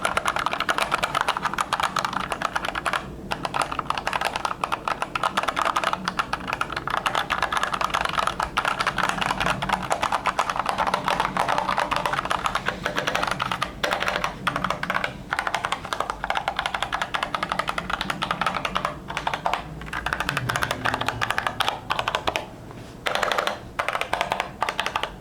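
Fast, continuous typing on a Drop Ringwraith mechanical keyboard, close and steady clacking for the whole stretch with only brief pauses, heard alone without talk.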